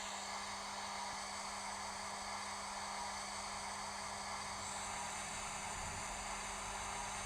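Hornby LBSC 0-4-0 model locomotive with DCC sound, running on its stay-alive, gives a faint, steady hiss with a low hum, continuous with no talking.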